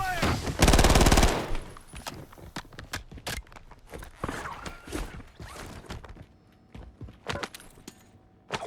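Gunfire in Warzone: a loud close burst of rapid automatic fire, then scattered sharp single shots and short volleys at uneven intervals, fading toward the end.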